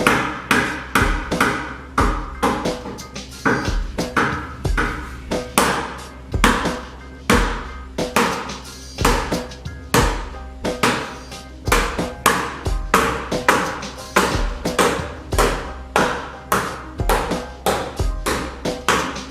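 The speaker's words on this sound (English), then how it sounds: "That opened up a nice place for me to get a hammer in there and bang on" A hammer bangs repeatedly on the sheet-metal body of a Honda Del Sol, sharp ringing strikes in a steady, fairly quick rhythm, close and loud with no talking.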